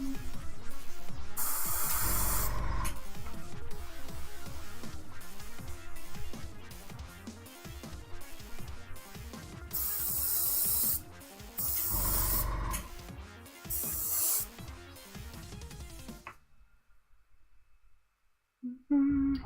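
Airbrush spraying acrylic gouache paint onto a gingerbread figure, giving repeated close, loud hissing bursts of a few seconds each with quieter gaps between them, then near silence at the end.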